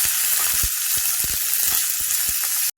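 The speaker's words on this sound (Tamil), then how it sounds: "கடுகு வெடிக்க ஆரம்பித்ததுக்கப்புறமா நம்ம சின்ன சின்னதாக கட் பண்ணி வச்சுருக்கிற வெங்காயத்தையும் சேர்த்துக்கலாம்" Chopped onions fry in hot oil with popping mustard seeds and urad dal for an oats rava dosa tempering, giving a loud continuous sizzle dotted with sharp crackles and pops, and no voices.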